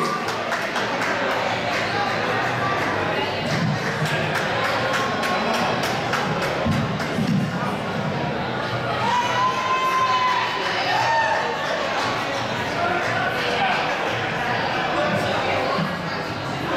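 A crowd cheers, whoops and shouts for a singer at a blues performance in a brewery, loud and continuous with excited voices and chatter throughout.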